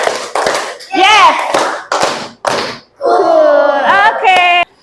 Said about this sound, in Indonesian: Tepuk 1. Oke. Tepuk 2. Yes. Tepuk 3.